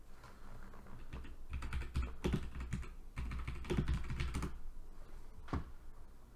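Typing on a computer keyboard, with a quick run of close, soft key clicks in uneven bursts and a few short pauses between them.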